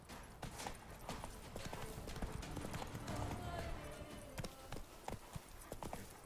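Hooves of Roach, a horse in The Witcher 3: Blood and Wine, clip-clopping in an irregular walking rhythm, fairly quiet under game ambience with a voice speaking.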